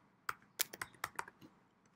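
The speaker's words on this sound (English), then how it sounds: "and I type gallery." About eight quiet keystrokes click on a computer keyboard in a quick, uneven burst, close and isolated with no talking.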